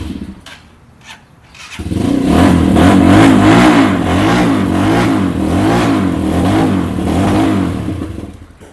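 Engine of a secondhand Benelli motorcycle revving loudly up close after a quiet start, with a steady throbbing idle rising into repeated swelling throttle blips that hold for several seconds.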